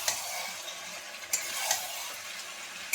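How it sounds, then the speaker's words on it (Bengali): Cauliflower pieces sizzle steadily in a hot frying pan while a spatula stirs them, with occasional sharp scrapes and clinks against the pan over the continuous hiss. "ফুলকপিগুলো দিয়ে আমি এরকম একে একে নেড়ে নেবো।"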